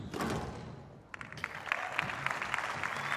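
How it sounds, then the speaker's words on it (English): Spectators clap at a women's world team squash championship on an outdoor glass court, a brief lull giving way to brisk, scattered applause that grows steadily denser. "the crowd can't clap quick enough"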